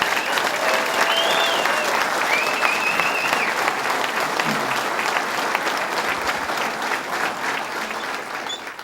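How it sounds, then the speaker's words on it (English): A large audience at a public event celebrating the repowering of the Dunkirk power plant breaks into sustained, dense applause that holds steady and loud throughout, with some crowd noise mixed in and no clear talking. "And let's give them another round of applause."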